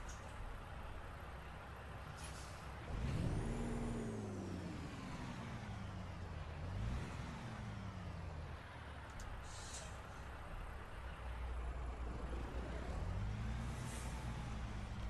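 A new Peterbilt truck in American Truck Simulator, its engine revving up and down in repeated rising and falling sweeps, with a hiss of air brakes, loud and steady throughout with no talking.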